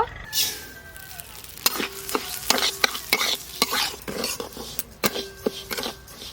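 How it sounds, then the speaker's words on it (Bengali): Moong dal frying in ghee in a wok, with a spoon scraping and stirring in repeated strokes over a soft sizzle, close and clear, with no talk. "ঘি দিয়ে এবার মুগের ডালগুলো খুব ভালো করে ভেজে নেব"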